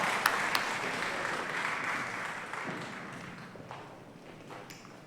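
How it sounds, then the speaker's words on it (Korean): A church congregation at a Sunday morning service claps steadily for several seconds. The dense applause slowly thins and fades toward the end. "우리 격려의 박수 다시 한 번 더 한번 하겠습니다"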